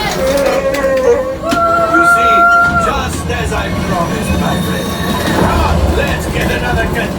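A train in the Millennium Falcon Smugglers Run ride, a steady loud rumble with metallic squealing tones, accompanied by ride effects and voices talking throughout.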